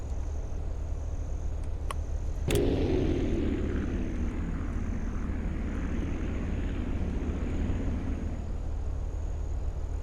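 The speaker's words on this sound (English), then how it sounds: "the engine's noises in this game are beautiful" A propeller aircraft engine in the Aviassembly flying game hums in a steady, even drone, broken by one sharp click early on before the smooth engine tone carries on.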